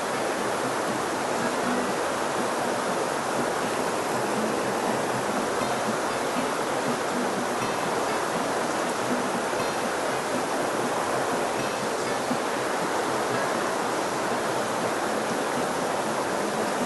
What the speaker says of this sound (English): Well, that water's going fast.